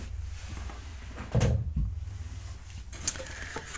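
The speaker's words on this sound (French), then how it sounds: "Je vais prendre ma pince Crocodile et venir faire des petits trous" Crocodile hole punch pliers punch small holes in a paper gift box, giving two close, sharp clacks in quick succession, then quieter handling noise and a faint click, with no talk.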